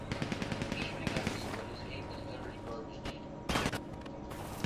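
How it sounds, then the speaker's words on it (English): Gunfire in a GTA roleplay video game: rapid bursts of shots crackle quietly under chatter, with a louder burst near the end. "Wait, who he shooting at?"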